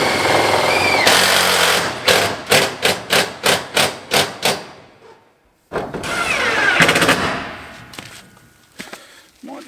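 Screw gun driving screws into Colorbond cladding on an off-grid house build: a rapid series of about eight sharp, loud bursts in a steady rhythm, followed after a pause by a longer rattling whir, close by.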